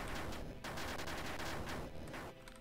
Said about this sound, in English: Let's drop some grenades.